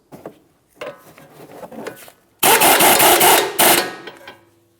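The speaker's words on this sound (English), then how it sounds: "Torque it to 70 foot-pounds." Ratcheting torque wrench tightening the front left CV axle nut on a 2011-2021 Jeep Grand Cherokee, a few light clicks and rubs followed by a loud dense burst of metallic ratcheting near the mic, then fading.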